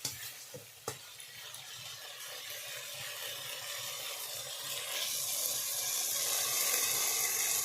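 Spice paste for aloo dum frying with a splash of water in a pan, a steady close sizzle with a few scrape knocks early on, growing louder and hissier toward the end.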